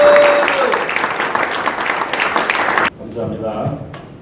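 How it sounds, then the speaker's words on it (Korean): A church gathering of fathers gives an elder hearty welcoming applause: dense, loud clapping from the audience for about three seconds, then it stops abruptly and a single voice begins speaking. "우리 힘찬 박수로 우리 장로님 맞아주시기 바랍니다"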